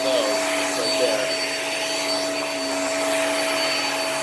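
A Hoover React upright vacuum cleaner runs steadily on a rug, a constant loud whirring drone with a high whine that holds throughout without pause.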